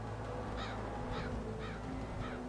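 A bird in Age of Wonders 4 caws four times at an even pace, harsh crow-like calls standing out over a constant low rumble of game ambience.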